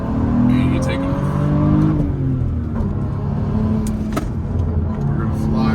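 A tuned BMW 435i running MHD anti-lag launches hard, its engine droning loudly as it accelerates with rising and falling pitch through the gears, heard from inside the cabin with speech and occasional sharp pops.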